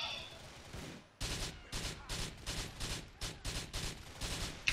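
Rapid bursts of gunfire crack repeatedly in Grand Theft Auto IV, a dense string of loud shots in quick succession after a brief quieter moment at the start.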